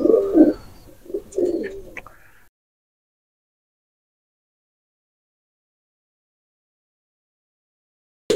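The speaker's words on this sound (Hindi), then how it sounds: "ये रहे दोस्तों, ये अभी कबूतर बाहर निकाल रहे हैं" Pigeons being let out of their loft give a couple of low, soft coos near the mic for about two seconds, followed by silence.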